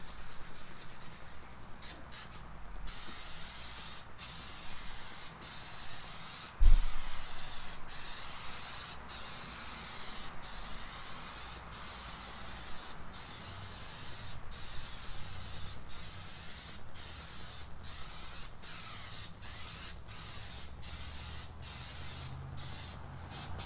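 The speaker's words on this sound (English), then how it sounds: "start coating it down using our Pam spray canola oil here" A Pam canola oil spray can hisses steadily as it coats the surface of a new Lonestar Grillz offset smoker, with a close, continuous spray broken by one dull knock partway through.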